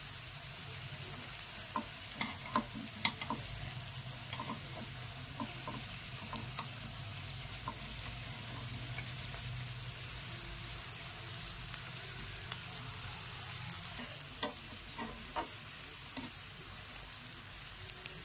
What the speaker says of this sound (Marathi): हे पहा किती छान फ्राय होत आहे.